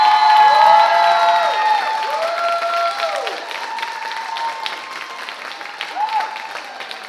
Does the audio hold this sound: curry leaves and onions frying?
no